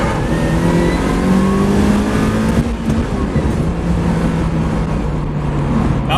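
Supercharged Mazda Miata accelerating hard, its engine note climbing steadily through the revs with a dip near a gear change, loud and close from inside the car.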